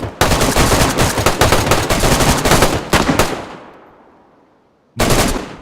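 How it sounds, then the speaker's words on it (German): Rapid, loud bursts of automatic gunfire fired as a salute in the video game DayZ, rattling for about three seconds before echoing away into silence, then one more burst starts. "Auf 3, Salutschuss."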